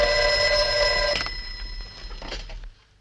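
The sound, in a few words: telephone ringing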